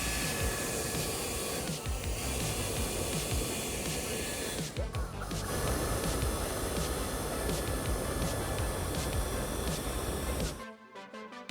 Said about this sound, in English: I'm gonna go ahead and spray some water on here, turn on the hair dryer, and see if it self-cleans compared to the older Tesla Model Y.